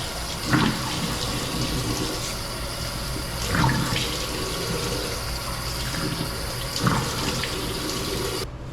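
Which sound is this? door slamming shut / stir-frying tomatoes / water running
water running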